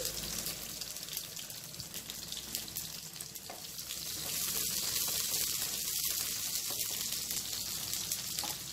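Chopped onions and cumin seeds frying in a pan for a Telugu dried-fish curry, a steady broadband sizzle that swells louder about halfway through as the onions go in, close and continuous with no talking.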